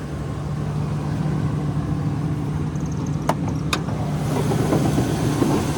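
A truck's 6.0 LS engine idles steadily with a low, even rumble, broken by a couple of sharp clicks midway.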